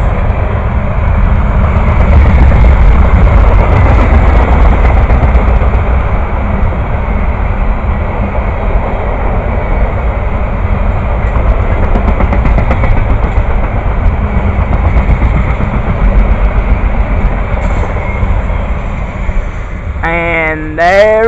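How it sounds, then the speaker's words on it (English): A long juice train rolling past, a loud continuous rumble and rattle of railcars that holds steady, with a horn-like tonal sweep rising at the very end. "And there it goes, the juice train."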